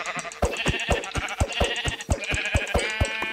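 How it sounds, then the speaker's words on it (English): Sheep in Minecraft bleat in quick repeated game sound effects, several overlapping calls close and clear with no talking. "Yeah, I need three white sheep."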